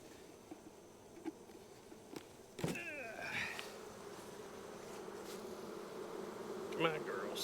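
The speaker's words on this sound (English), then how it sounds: "A lot of bees on the outside." Many honey bees buzz around the outside of a hive in a dense, steady hum with individual bees droning past nearby, along with occasional clicks and knocks.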